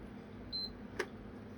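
A PS5 console gives its second short beep as it enters safe mode, one brief clear tone followed by a faint click against a quiet room hum.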